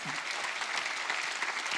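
A church congregation at a Sunday worship service claps steadily, producing a dense, even patter of applause from start to finish with no voices over it.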